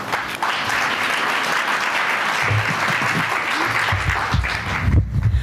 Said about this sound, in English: That's the best we can do, clapping.